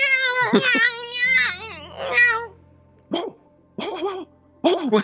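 A person mimics a dog with a string of short, loud barks and yelps, close up, in separate bursts with pauses between them.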